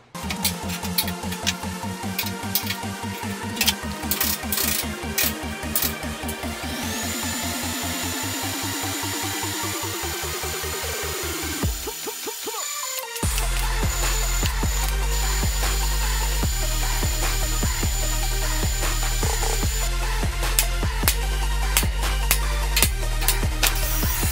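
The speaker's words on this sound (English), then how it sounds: "and then weld her in." Welding on a transmission crossmember, heard as a dense crackling buzz that runs for long stretches with a brief pause near the middle, alongside a rising motor whine and some clanking, with no voices.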